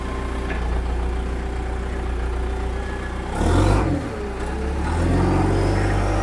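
An old abandoned digger's engine runs steadily at idle, then revs up sharply in a brief loud burst before settling back into a rough, low, continuous rumble.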